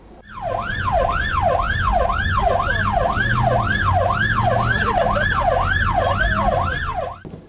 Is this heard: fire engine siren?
yes